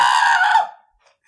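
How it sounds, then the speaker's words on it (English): A screaming goat sound effect: one loud, harsh, bleating scream that holds steady for about half a second, then trails off quickly into silence. "Screaming goat!"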